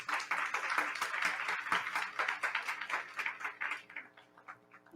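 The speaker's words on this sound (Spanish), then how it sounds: "Un fuerte aplauso." An academic conference audience at an AMIC meeting applauds, a fairly quiet patter of many hands clapping in an irregular rhythm that thins out toward the end.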